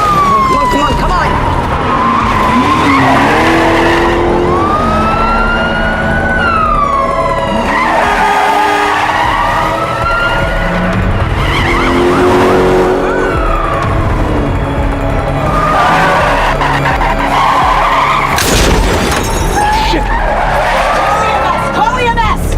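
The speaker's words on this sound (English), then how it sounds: "경찰의 추격을 눈치챈 범인들은 거칠게 차량을 몰며 도주하고" In a police drama, a fleeing car's tyres screech and skid loudly through a chase, with roaring engines and wailing police sirens, while voices shout over the continuous noise.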